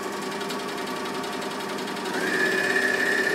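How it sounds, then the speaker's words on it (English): A Bernina L450 overlocker stitches along raw fabric edges with a fast, steady mechanical whirr and hum, rising in pitch and loudness partway through as it speeds up. "I'm just going to go down my raw edges this time, put my foot down and just sew down here."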